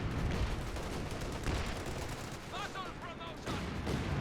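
Machine gun fire and battle noise in the real-time strategy game Company of Heroes 2 on the 4v4 Lanzerath Ambush map: dense, rumbling bursts of gunfire with a brief whistling shell passing midway, continuous throughout.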